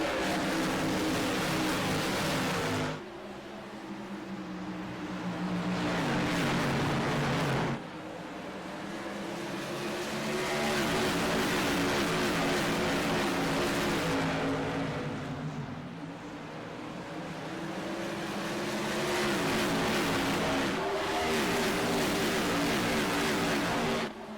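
Modified race cars of the Jones BS Tour Mods roar around Richmond Raceway, a loud continuous engine drone rising and falling in waves as packs pass close by, with sharp changes near the 3-, 8- and 16-second marks and no talking.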